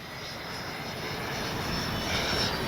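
An FMS 70mm F-18 RC jet making a low pass with its landing gear down, a steady loud electric ducted-fan roar that swells slightly as it passes.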